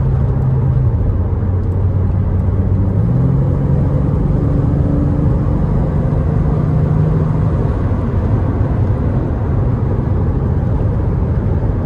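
A 2009 Porsche Boxster S convertible drives at speed, its engine droning steadily and climbing in pitch as it accelerates through smooth gear changes, with heavy road and wind rumble throughout.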